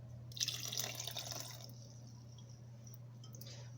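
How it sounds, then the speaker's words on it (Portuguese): Filtered water splashes into a pan for a condensed milk honey-cake mixture, a short bright pour near the start easing into faint trickling, with a steady low hum beneath. "Água filtrada."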